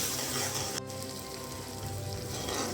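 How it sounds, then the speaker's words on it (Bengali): Ground spices such as turmeric, cumin and dried chili powder frying in oil in a pan, a soft, steady sizzle heard close and alone without talk. "এগুলো সব মশলা ভালো করে কষিয়ে নেব।"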